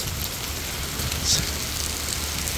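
Heavy rain pours down steadily in Singapore, a dense hissing roar of drops hitting surfaces nearby, constant and loud throughout.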